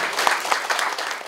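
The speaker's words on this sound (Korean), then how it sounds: "큰 박수로 맞아주시기 바랍니다." A room of attendees at a CEO economic academy opening ceremony applauds to welcome a speaker, a brief burst of fairly close clapping with a few sharp individual claps standing out.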